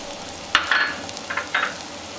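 Dried anchovies stirred into a masala as they fry, a couple of brief scraping stirs over a soft, steady sizzle with nobody talking.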